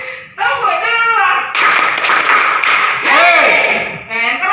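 Group of trainees clapping a rhythm pattern during an in-house training session, sharp hand claps mixed with loud shouted voices and chanting.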